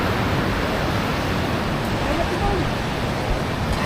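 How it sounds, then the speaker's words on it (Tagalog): Choppy sea waves washing steadily in a constant broadband roar with a little wind, close and fairly loud, with faint voices blending into the background. "Maganda na ang dagat, medyo may alon pa rin pero kaya na naman."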